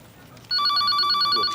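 A telephone bell starts ringing abruptly after a quiet moment, a bright rapid trilling ring that continues steadily and loudly to the end.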